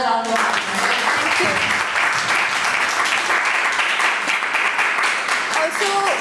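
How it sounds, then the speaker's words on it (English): A loud, continuous round of applause from an audience at the end of a talk on Maharashtrian women's perspectives on feminism, with some brief tonal sounds mixed in. "I think you deserve another round of applause."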